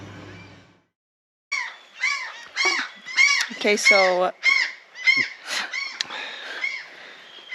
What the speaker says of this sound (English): Seagulls going crazy.